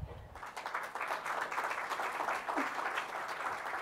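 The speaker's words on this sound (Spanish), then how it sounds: "Les recibimos con un aplauso." An audience at a Caribbean symposium on religious freedom gives a steady round of clapping to welcome panel speakers, rising after a brief quieter start and continuing evenly for several seconds.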